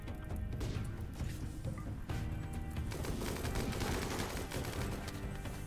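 Rapid video-game gunfire rattles in dense, loud bursts that overlap almost continuously from start to finish, with sharp crackling impacts and no clear pauses.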